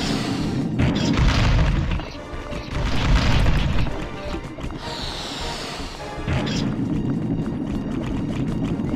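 Loud, heavy booms and crashing impacts as cannon beetles fire boulders in Pikmin 2 HD, several thumping blasts in quick succession with rolling debris between them.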